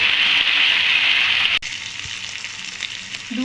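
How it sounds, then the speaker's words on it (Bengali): Pre-fried chicken is sautéed with spice masala in a pan, giving a loud, close, continuous sizzle that drops abruptly, leaving a softer frying hiss with light stirring. "দিয়ে আবারও মশলার সঙ্গে চিকেনটাকে আমি 2-3 মিনিটের জন্য কষিয়ে নিচ্ছি।"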